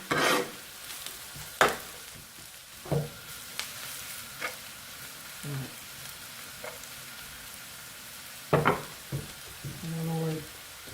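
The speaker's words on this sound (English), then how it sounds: "Occasionally do a little stirring session." Bottle gourd and prawns fry in a pan for a Bengali lau chingri dish, with a low steady sizzle beneath scattered scraping stirs from a spoon, all close by and with no talking.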